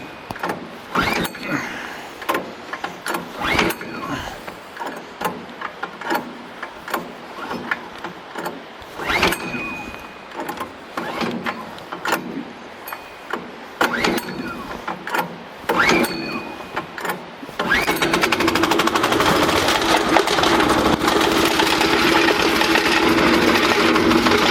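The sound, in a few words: engine of an entry-level double-hopper wood chipper warming up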